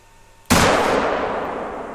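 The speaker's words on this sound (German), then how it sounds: "Schöner Schuss. So schießt man effektiv." A single sharp gunshot from the hunting video game theHunter, fired at a black bear, cracks loudly after a brief quiet moment, then rings out in a long, fading reverberant tail.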